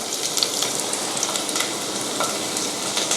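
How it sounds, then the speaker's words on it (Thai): Shallots, carrots and potatoes stir-frying for Japanese curry give off a steady, close crackling sizzle with scattered pops throughout, no voices over it. "ผมลงหอมกับแครอทลงไปผัดเลยคุณผู้ชม ตามด้วยมันฝรั่ง"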